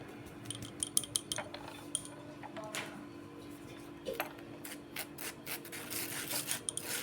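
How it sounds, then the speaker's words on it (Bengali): A spoon mixes vanilla cake batter with powdered milk in a bowl, giving soft scraping and rubbing with irregular light clinks and taps against the bowl, close and quiet, with no talk. "এটাকে ভালো করে মিশিয়ে নিই"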